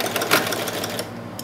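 A sewing machine stitches a dart on a fitted skirt, running in a fast steady mechanical patter up close before easing off near the end.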